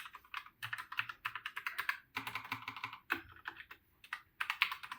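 Typing on a Logitech tenkeyless mechanical keyboard with red linear switches: close, fairly soft, rapid keystroke clatter in uneven bursts with brief pauses, with no talking.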